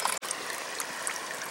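Water trickles steadily out of the top tier of a homemade three-tier filter onto charcoal, a continuous close splashing hiss with a brief dropout near the start and no talking.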